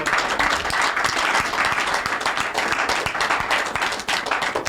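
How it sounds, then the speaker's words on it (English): At a Peter Obi event at Human Rights Radio and Television, an audience gives a lively round of applause, many close hands clapping in a dense, continuous patter with crisp individual claps throughout, steady and fairly loud. "A round of applause."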